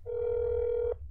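A telephone ringing while a call goes through to an apartment in the video game That's Not My Neighbor, a single steady ringback tone lasting about a second, clear and alone.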